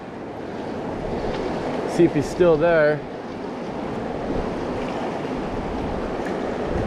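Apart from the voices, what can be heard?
turbulent river water rushing around the angler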